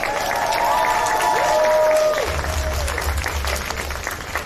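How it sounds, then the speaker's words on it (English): An audience at a live Twitchcon stage event breaks into loud applause and cheering for the winners, a dense burst of clapping that swells and then gradually thins out. "Can we have another round of applause for our darling winners today?"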